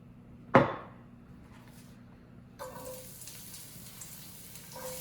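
Chopped onions hit hot olive oil in a pan with a sharp sizzling splash, then settle into a steady, soft frying crackle.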